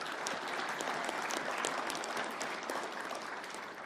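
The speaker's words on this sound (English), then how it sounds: "So thank you for giving them a round of applause." Steady applause from the audience at a chiefs' assembly, a continuous, even round of clapping from a large room that runs for a few seconds.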